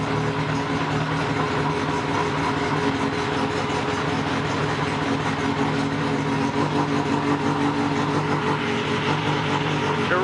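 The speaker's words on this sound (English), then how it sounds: "I'm going to turn the idle speed up just a little." Honda CB750 motorcycle engine idling steadily, a continuous near rumble lasting throughout with no break in the running note.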